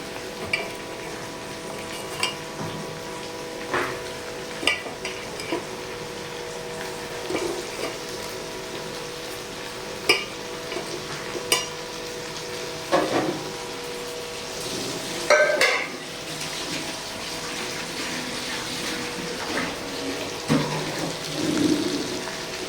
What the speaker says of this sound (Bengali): মাংসটাকে আমি নাড়ানাড়ি করে নেব তো, তারপর আমি এই মশলাটা দেবো।